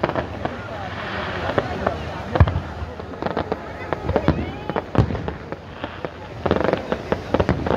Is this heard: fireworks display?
yes